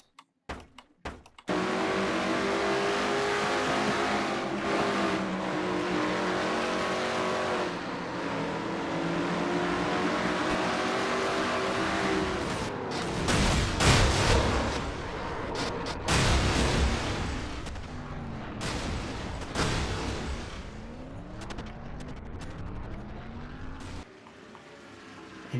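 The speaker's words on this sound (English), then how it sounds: "you heard Dylan trying to get his poor car to start, but it would not do it" A stock race car in a racing video game set at Bristol's Food City 500 struggles to start, its engine churning and sputtering with uneven bursts, heard alone and fairly loud for a long stretch.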